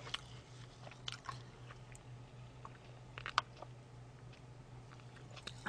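Crunchy french fries being chewed close by in a quiet room, a string of soft bites and crackly crunches with short pauses between them.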